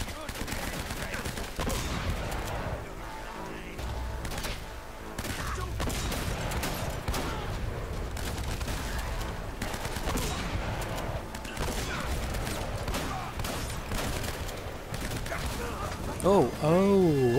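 Gunfire in the video game Uncharted: Drake's Fortune on PS4, loud rapid bursts and volleys of shots running continuously, with voices talking over the fighting.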